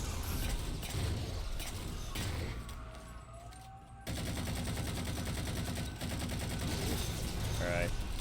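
Repeated gunfire bursts and weapon discharges in the shooter game Halo 3: ODST, with Promethean weapons and light rifle fire, dense and continuous with a brief lull midway, under faint talk.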